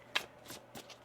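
Tarot deck shuffled by hand during a card reading, a sharp riffle burst followed by a few softer card slides, close and fairly faint, with no talking.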